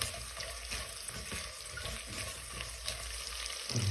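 Onions and green chillies fry in a pan for bagara rice, a soft continuous hiss of oil with faint scraping, quiet and even throughout.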